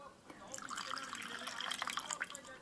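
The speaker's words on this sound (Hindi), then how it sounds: "और पानी डालूंगी यहाँ पे" Water poured into a gram flour batter with yogurt, green chili and garlic paste, salt and turmeric for khandvi; a faint, brief trickling pour with splashy liquid sounds close by.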